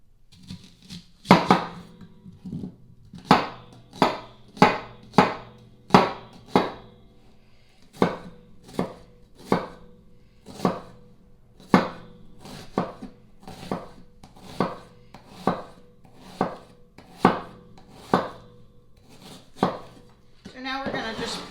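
Knife chopping Italian parsley on a cutting board, about twenty evenly spaced, crisp thuds in a steady rhythm, close and fairly loud, with no talking over them.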